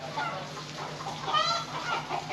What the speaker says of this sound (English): Hopefully you can hear me over these chickens in the background